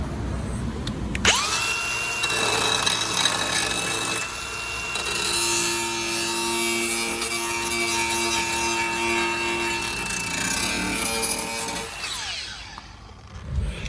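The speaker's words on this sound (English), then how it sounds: "I'm going to grind this off so it's down to some sort of weldable metal and all the way around it" A power grinder works steadily on rusty sill metal of a Citroen C1, Toyota Aygo or Peugeot 107, preparing it for welding: a sustained, loud, whining grind that spins up, holds for about ten seconds, then winds down.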